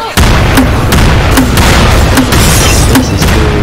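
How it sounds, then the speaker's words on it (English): Grenade launcher blasts from Left 4 Dead 2 gameplay: loud, evenly spaced booming explosions, roughly four or five, over a dense, constant wash of game noise. "The grenade launcher."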